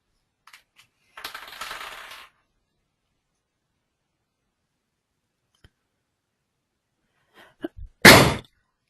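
A sharp, loud sneeze bursts out near the end after a few faint small noises and a short rustle, close to the listener.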